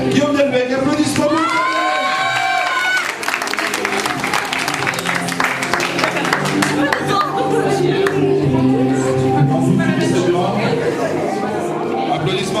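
A school crowd at a lycée charity run event applauds and cheers for the winning team, with dense clapping, whoops and children shouting over a loud announcer-style voice and chatter.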